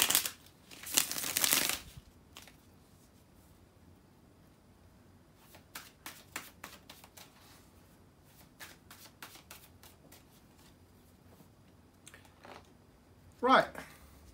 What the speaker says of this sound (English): So let me shuffle the cards and see what you got